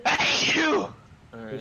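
A single loud, close sneeze bursts out, and a person speaks briefly right after it.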